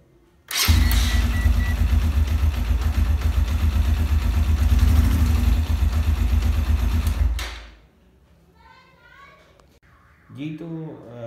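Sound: motorcycle self starter motor cranking with kill switch off

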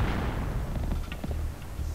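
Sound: mines exploding in Oddworld: Abe's Exoddus video game

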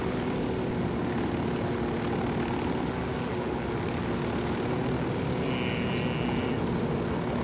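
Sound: helicopter flying in Ghost Recon Wildlands video game

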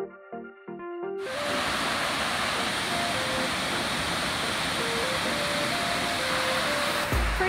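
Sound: waterfall at Crater Lake National Park

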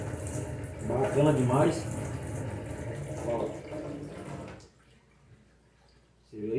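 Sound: water running from a homemade recycled PVC pipe faucet

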